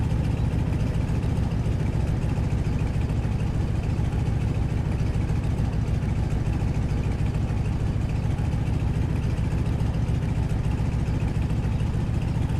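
Stearman biplane engine in Microsoft Flight, idling in a steady, loud low-pitched drone that holds even throughout, with no other sounds.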